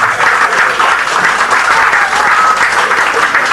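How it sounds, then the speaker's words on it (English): Loud, dense applause from a hypnosis show audience in Ibiza, Spain, a steady wash of many hands clapping that holds evenly throughout with no talk over it. "Give them all a big round of applause, ladies and gentlemen"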